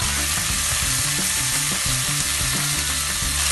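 Chopped onion lightly sautéing in a pan for tacos, a dense continuous sizzle with rhythmic scraping and stirring clicks close by, no talking.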